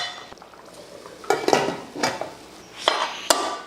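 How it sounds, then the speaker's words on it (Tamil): Several sharp metallic clanks and scrapes as a pressure cooker lid is set and fastened, over a quiet simmering background of pulao rice boiling. "இப்போ குக்கர் மூடி போட்டுடலாம்."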